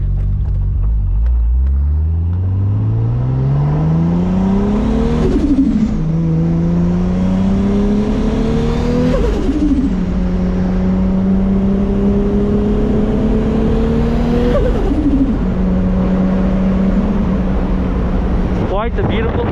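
A Toyota Supra MK4 on a spirited road drive pulls hard through several gears, its engine note climbing in long rising sweeps with drops at each shift, loud and close throughout.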